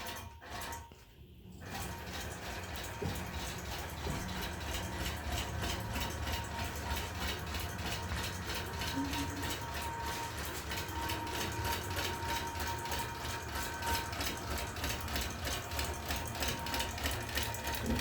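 A longarm quilting machine stitches down a quilt during a full baste, giving a steady, continuous mechanical whir with a faint rhythmic needle clatter that holds at an even level for the whole stretch.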